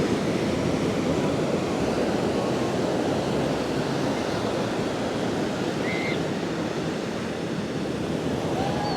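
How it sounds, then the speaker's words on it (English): Small ocean waves at West Port Beach, a steady, broad wash of surf with some wind noise on the microphone, continuous and moderately loud, with no talking. "Nice little waves."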